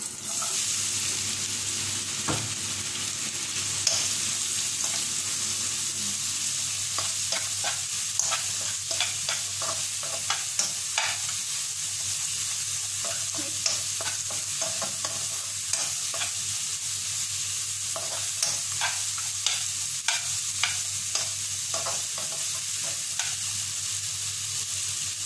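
Green beans frying and being stirred in a pan for a Sri Lankan curry, a steady close sizzle running the whole time with frequent scraping stirs and small clicks of the utensil against the pan.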